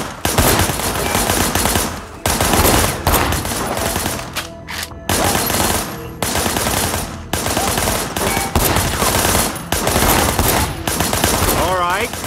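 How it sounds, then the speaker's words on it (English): Sustained automatic gunfire during a firefight at a manufacturing plant in the Sleeping Dogs video game: loud, dense rattling bursts repeated across the clip with short gaps between them. "I want you to put some bullets in a few things."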